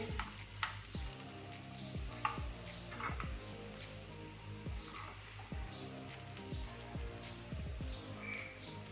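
Potatoes frying in a pan, a steady quiet sizzle with soft stirring scrapes and occasional clinks of a spoon against the pan, with no talking.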